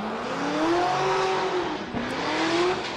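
A Nissan 350Z drift car with Power Stop brakes rips through a drift course, engine revving hard with wavering pitch alongside squealing tyres, loud and close, with a brief dip before the revs climb again.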